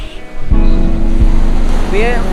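Surf rolls and washes steadily near a beach, with a couple of dull thumps and a brief high whistle-like tone over the water noise.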